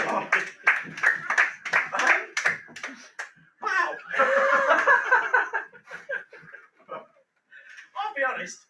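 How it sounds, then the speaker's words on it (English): Game show audience clapping in a hall, a burst of quick claps for about three seconds mixed with laughter and chatter, then voices talking over scattered sounds. "A round of applause for Kaylee."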